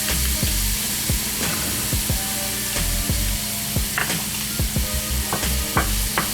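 Cheese steak filling sizzling in a pan over medium-high heat, a steady frying hiss broken by repeated scraping and stirring clatters of a utensil against the pan.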